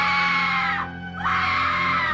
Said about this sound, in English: It's very annoying to watch people screaming. It's a fucking horrible noise, too.